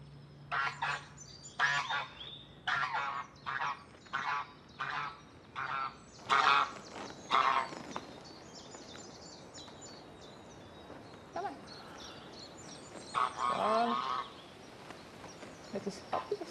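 Geese honk in a run of loud, repeated calls, some overlapping, with quieter gaps between bursts; no one speaks.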